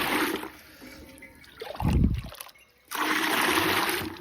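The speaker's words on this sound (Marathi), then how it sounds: "असं पाणी काढायचं गरम" Hot water trickles and splashes steadily as it is drawn, pausing briefly with a louder gush in the middle before the flow resumes, close by.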